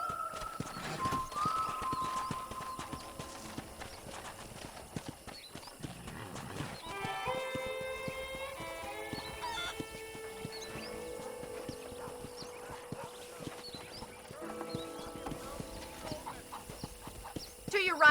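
Horse hooves clip-clop at a riding pace in the Red Dead Redemption video game, rhythmic beats running through a mix of game music and ambience, with voices talking over it.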